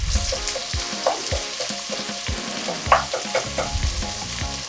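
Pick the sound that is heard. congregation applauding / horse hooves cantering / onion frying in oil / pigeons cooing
onion frying in oil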